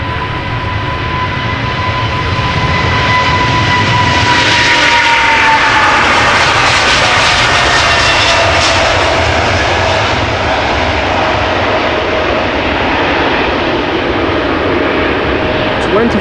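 A United Airlines Boeing 777-200 departs Amsterdam Schiphol bound for Newark, its engines roaring loud and close, with a high whine sliding downward as the jet passes and the thunder lingering afterward.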